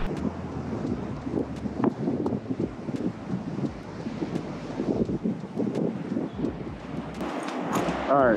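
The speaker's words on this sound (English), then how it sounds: "It's really windy right now." Strong wind blows on a beach at the Outer Banks, North Carolina, buffeting the microphone in a constant loud rumbling gust, with rough surf faintly underneath.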